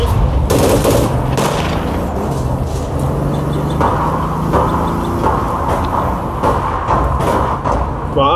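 Gunfire in the online shooter APB: All Points Bulletin, steady bursts of shots running throughout under vehicle noise and a player talking over it.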